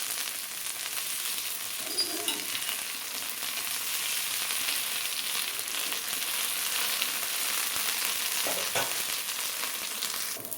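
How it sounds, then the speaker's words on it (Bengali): Jute leaf fritters made with Gobindobhog rice and red lentils fry in a pan over low gas, giving a steady, close oil sizzle that runs continuously throughout, with a brief stir or turn partway through. "বড়া ভাজা হয়ে গেছে"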